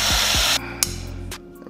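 Power drill boring through a metal rear bumper bracket on a Nissan 350Z during a NISMO bumper install: a loud, steady whine for about half a second, then brief bursts and a lower rumble tapering off.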